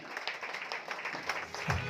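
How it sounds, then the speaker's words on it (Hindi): Audience at a celebration in Shirdi applauding a guest, a fairly faint, steady patter of clapping from a crowd throughout. "जोरदार तालियां।"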